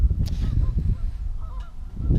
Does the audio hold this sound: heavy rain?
no